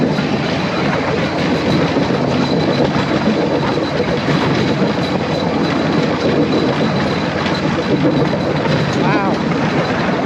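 A bamboo train near Battambang, Cambodia rolls along makeshift rail tracks with a loud, continuous rattling rumble and clattering wheels, close and unbroken throughout, with a brief squeal near the end.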